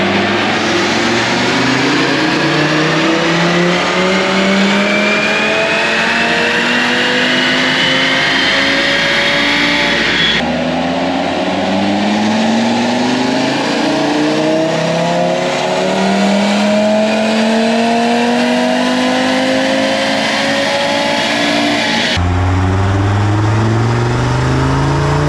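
Audi RS3 or TT RS with a Unitronic Stage 1 Plus tune on 93 octane fuel and a Unitronic 4-inch intake, running hard on a dyno: loud, continuous engine roar sweeping up through the revs in repeated pulls, with no talk.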